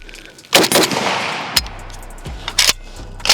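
A cheap AK rifle fires through a magazine, opening with a close, loud burst of rapid shots followed by scattered single and double cracks with short pauses between.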